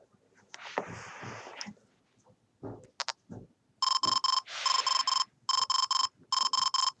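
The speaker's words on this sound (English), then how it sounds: "So that's the alarm sound." A Nintendo DS Lite alarm beeps in rapid bursts of bright electronic tones, repeating in short clusters near the end, after quieter handling noises and a brief softer tone.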